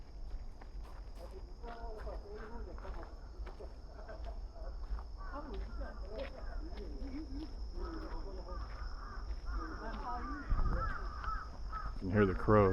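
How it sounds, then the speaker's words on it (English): Crows caw repeatedly in Hamarikyu Gardens, Tokyo, by brackish water, their calls coming in scattered bursts at moderate distance over steady outdoor ambience, with footsteps and people talking nearby. "You can hear the crows, right?"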